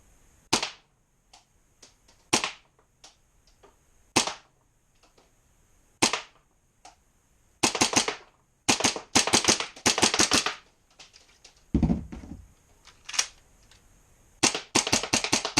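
A Hicapa 4.3 hybrid airsoft pistol fires in a small basement shooting range, sharp snapping shots arriving singly at first and then in quick bursts, with a muffled thump midway and no talking.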